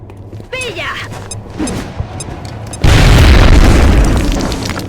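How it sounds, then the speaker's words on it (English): A grenade blast in the strategy game XCOM: Enemy Within, a sudden loud, broad boom that erupts about two-thirds through and rumbles on, after quieter game sounds and brief chirps. "Can I get another grenade on these guys? Oh, I can by balancing it on the flower planter."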